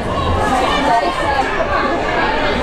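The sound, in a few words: crowd at a youth soccer match growing louder after goal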